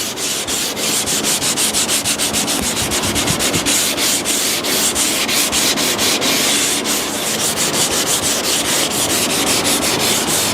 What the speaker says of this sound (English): Then I'll take my sanding sponge and just slowly work my way around.